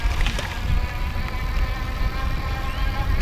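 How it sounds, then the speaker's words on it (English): The electric motor of an EZ Pedaler T500 e-bike whines steadily at full throttle on a ride from a stop, a thin, insect-like buzz held over a constant rumble of wind and road noise. "power it up. This is full throttle right now."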